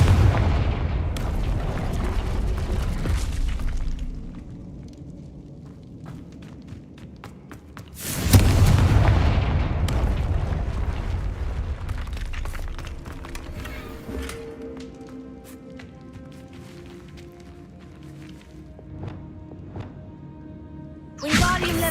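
The Confringo blasting spell goes off in Hogwarts Legacy, a heavy explosion at the start and a second deep, rumbling blast partway through. Debris crackles and pops after it and slowly dies down, and a short burst comes near the end.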